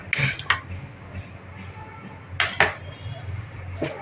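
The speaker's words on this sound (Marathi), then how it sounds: "त्याच्यासाठी आता मी गॅस लावते आणि मी तो शिजत ठेवते" A gas stove is lit and a pot of khoa is set on to cook in a home kitchen. A few sharp clicks and metallic clinks come at the start and again near the end, with quiet room noise between.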